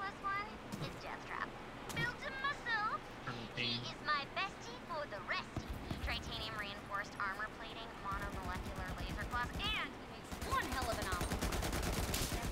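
Gunfire crackles in a video game, with bursts of rapid shots building into a dense automatic volley near the end, while people talk and laugh over much of it.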